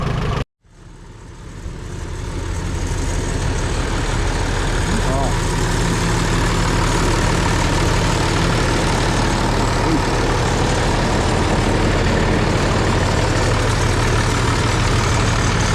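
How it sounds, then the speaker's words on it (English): A heavy tractor engine idles steadily and loudly up close at a farm museum show, a continuous low rumble that holds for the whole stretch after a brief cutout at the start. "Nice tractor. Runs excellent."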